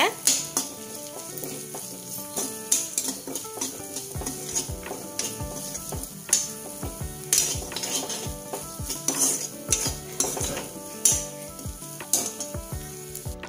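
Crushed ginger and garlic sauté in a hot pan, giving a continuous sizzle broken by frequent metallic scrapes and clinks of a spoon stirring against the pan, with no talking.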